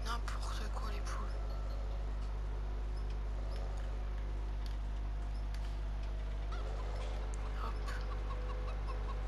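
Chickens and a rooster clucking in the farming video game Farming Simulator 17, scattered bird calls and clucks heard under a steady low hum with a person talking.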